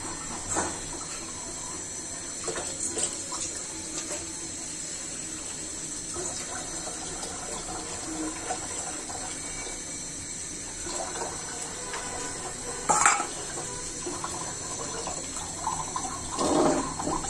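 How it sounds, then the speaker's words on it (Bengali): Water poured and splashing while a cooking pot is rinsed in a home kitchen; a low, continuous trickle with a few brief louder splashes toward the end. "আর একটু পানি দিব এই যে হাঁড়িটা ধুয়ে।"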